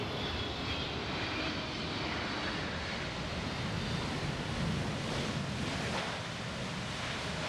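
Boeing 777 airliner engines roaring during a landing at a Miami airport: a loud, steady, broadband rush that holds at an even level throughout, with no voices.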